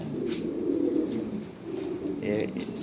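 Pigeons coo softly and steadily at a Lahori pigeon farm, a low murmuring layer running throughout with faint wing movement, heard close and continuous.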